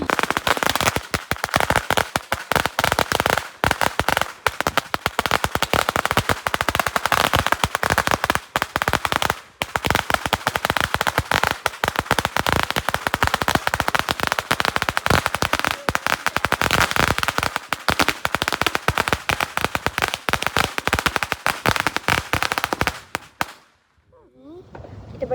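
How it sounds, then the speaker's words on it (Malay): Firecrackers set off outside a homestay in Tanjung Piai, Johor, crackle in a dense, nonstop rapid-fire string of loud pops for over twenty seconds, then stop abruptly. "Sekarang ni nak main bunga api guys. Yang meletup je banyak."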